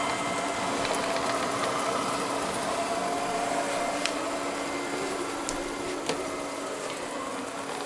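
An Ecovacs Deebot M81Pro robot vacuum cleaner running on the floor, a steady whirring motor hum with occasional small clicks and ticks as it picks up debris, close and continuous with no talking.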